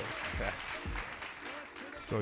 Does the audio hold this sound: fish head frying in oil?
no